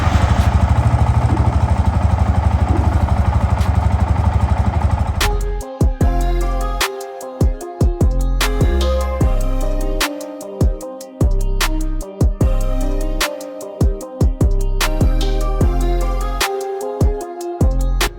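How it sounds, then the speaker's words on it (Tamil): A Yamaha R15 v2 motorcycle engine starts after a steady hiss, then settles into a close, uneven idle with regular low putters and mechanical clatter. "வண்டியை ஸ்டார்ட் பண்ணி விட்டுட்டு ஐடில் வச்சுக்கலாம்."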